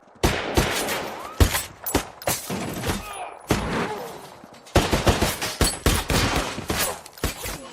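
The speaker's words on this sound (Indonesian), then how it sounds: "Kontak tembak pun tak bisa terelakkan lagi." A film firefight erupts in dense bursts of gunfire, with rapid volleys and sharp single shots crowding together. Loud, close cracks are followed by echoing tails across the whole stretch.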